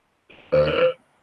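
A person does an impression of someone burping at random: a single short, loud, voiced belch of about half a second, alone and in silence.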